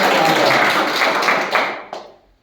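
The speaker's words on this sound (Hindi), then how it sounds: "सभी के लिए आप ताली बजाएं।" Audience applause at a Hindi-language political gathering in Berasia, a dense wash of clapping that holds steady and then thins out and fades over a couple of seconds.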